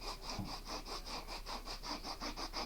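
Sanding on a handmade crafted prop, steady back-and-forth strokes in an even rhythm, close and fairly quiet, with no talk.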